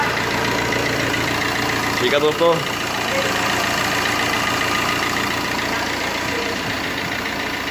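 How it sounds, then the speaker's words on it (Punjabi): A Tata Manza diesel engine with a cracked exhaust camshaft idles in a steady, even drone close by, while someone speaks briefly over it. "ਗੱਡੀ ਦੀ ਸਾਊਂਡ ਬਿਲਕੁਲ ਐਨ ਕਲੀਅਰ ਹੋ ਗਈ ਹੈ ਦੋਸਤੋ"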